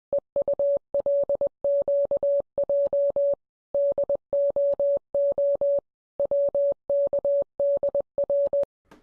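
Steady mid-pitched electronic beeps pulse in short, rapid bursts grouped into clusters separated by brief gaps, like a Morse code transmission, loud and clean against silence, with no voices.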